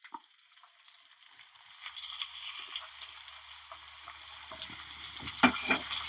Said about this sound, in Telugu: ఇది మంచిగా నూనెలో గోలాలి.